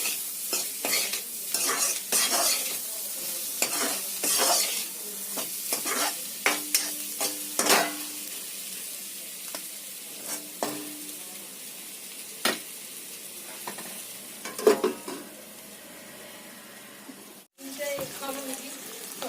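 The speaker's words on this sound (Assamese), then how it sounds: "তাৰপিছত মাংসটো আমি অলপ দিন কম জুইত ভাজিম, ফ্ৰাই কৰিম।" Pork frying over low heat for an Assamese-style pork curry, stirred steadily in the pan: a close sizzle with frequent spatula scrapes and clatter, a short pause, then stirring again.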